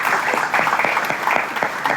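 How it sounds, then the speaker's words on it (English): Audience applause follows a startup pitch at a pitch event, a steady, dense wash of clapping from a sizeable crowd that holds for the whole stretch without letting up. "Round of applause for Audora"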